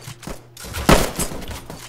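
A single sharp pistol shot rings out in the Roblox trench-warfare game Trenches, standing out loud and close against a busy backdrop of muffled battle noise.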